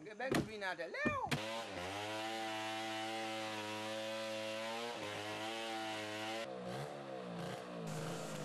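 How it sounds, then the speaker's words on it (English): A chainsaw in need of maintenance roars steadily at high revs, close and loud, after sputtering to life, with slight changes in pitch as it runs. "the chainsaw needs some maintenance now"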